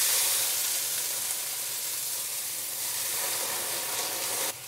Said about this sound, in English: this will start to crackle a little bit soon